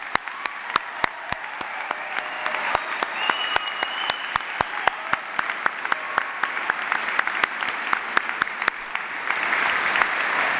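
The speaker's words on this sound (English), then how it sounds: "let's all get ready for the day by giving Brock's graduating class of 2017 a warm round of applause and congratulations" A convocation audience applauds the graduating class of 2017, a broad sustained round of clapping with a few sharp, nearby claps standing out regularly over the crowd's steady roar.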